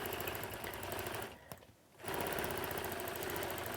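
A sewing machine stitches across a quilt seam in a steady, fast mechanical whir, pausing briefly midway before running on at full speed, close and loud with no talking.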